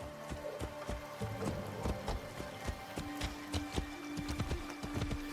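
Hooves clip-clop steadily from a horse ridden in Assassin's Creed Shadows, a quiet rhythmic trot of repeated knocks set within dense game ambience and background music.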